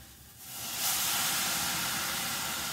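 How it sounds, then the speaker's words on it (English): Stock added to a hot pan of risotto rice for a low-fat risotto gives a steady, loud hissing sizzle that swells after a softer start and holds evenly, with no voices. "you're going to start adding your stock"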